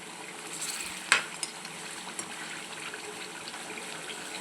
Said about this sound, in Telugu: ఒకసారి మొత్తం తిప్పుదాము